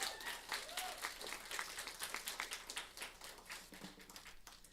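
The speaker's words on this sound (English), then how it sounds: "How about another round of applause for Darci?" Applause from an audience for a performer named Darci, a fairly faint spread of clapping with scattered individual claps and a few murmuring voices, rising and falling over several seconds.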